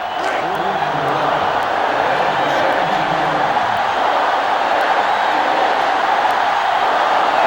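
A stadium crowd roars in NCAA Football 2005 during a Tigers vs Green Wave game, a broad sustained cheer that stays loud and steady for the whole stretch, with faint announcer-like talk early on.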